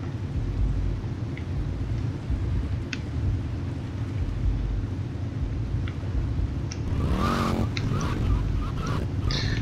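Motorbike in GTA Vice City Definitive Edition, heard as continuous engine drone under game ambience, then a loud screeching skid of tires sliding near the end.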